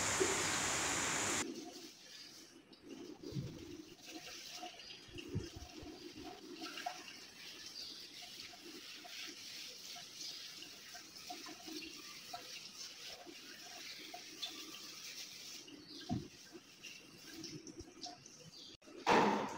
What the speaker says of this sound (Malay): Mandikan seluruh badan jenazah dengan air sabun.